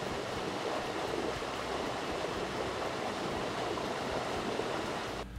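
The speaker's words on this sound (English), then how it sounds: "this is a nice clear stream forming the headwater" A clear headwater stream runs out of Cold Stream Pond in Maine, making a steady, close, full rushing wash that holds constant throughout with no voices.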